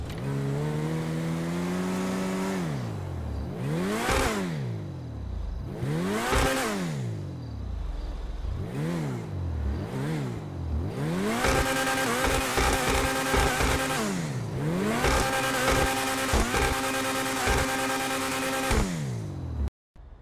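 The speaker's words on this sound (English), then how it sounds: "let's listen to that rev" Vysser Neo sports car, styled after a Spyker C8 Aileron, revving hard in a video game. Repeated rising and falling engine howls come first, then longer sustained high revs, loud and close with no talk.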